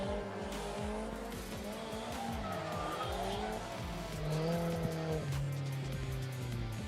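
A drift car at a D1GP drifting competition in Malaysia, engine revving and dropping with long tire squeals as it slides through the course, loud and steady, with no commentary heard over it.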